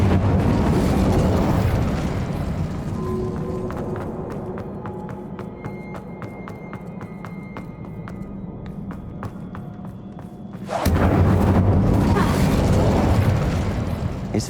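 A fire spell cast in Hogwarts Legacy bursts with a loud roaring whoosh, fades into quieter magical chimes and ticking, then erupts again in a second dense blast near the end.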